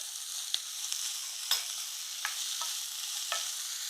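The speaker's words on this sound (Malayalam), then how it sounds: "ചെറിയുള്ളിയൊക്കെ നന്നായിട്ട് വഴരട്ടെ" Small shallots sauté in a pan for a chicken gravy, producing a soft, continuous sizzle punctuated by a few sharp spatula scrapes and clicks.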